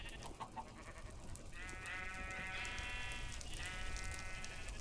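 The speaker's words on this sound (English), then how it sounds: "I totally just killed a sheep." A Minecraft sheep bleats in the video game, a faint wavering cry of about two seconds, followed by a shorter second bleat over quiet background noise.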